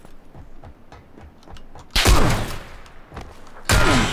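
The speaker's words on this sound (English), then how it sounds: "Where am I getting shot from?" Gunshots in PUBG, first faint distant pops and rustling, then two loud close booming shots with ringing decay, about two seconds apart, without any voice.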